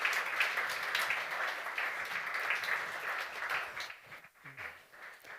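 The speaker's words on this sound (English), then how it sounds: "why don't you all come up with a big round of applause as well" Audience applause fills a New Year's event, a dense, steady clatter of many hands that holds for about four seconds before thinning and trailing off.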